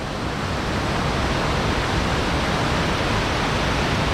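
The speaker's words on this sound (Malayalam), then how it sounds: "നല്ല സൗണ്ട് കേൾക്കുന്നുണ്ട് വെള്ളം കുത്തിയൊലിക്കുന്നതിൻ്റെ" Steady broadband roar of water gushing down Thommankuthu waterfall, continuous and loud throughout with no pauses and no voices.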